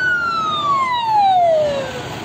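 A fire engine siren from a water tanker truck at a wildfire in Milas, Muğla, Turkey, sounding loud and close as a single wail that sweeps downward in pitch, with no talk over it.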